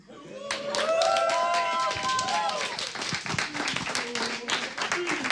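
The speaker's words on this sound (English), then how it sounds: "They're all just cheering for you." An esports crowd at a WCS Europe 2014 StarCraft tournament cheers and applauds, a dense wash of clapping that swells early and then carries on steadily, with a voice rising over it at the start.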